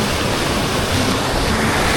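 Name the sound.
big ocean waves crashing at the beach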